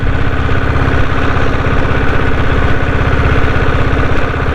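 A restored Royal Enfield Bullet motorcycle fitted with a diesel engine runs steadily and loudly with a regular low thumping beat, heard alone without speech.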